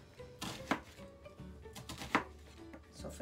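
A knife slices through an onion on a board, two distinct close cuts with quiet handling sounds in between.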